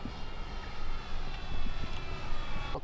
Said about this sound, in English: I'm going to pass by and pull the landing gear up so you can see it.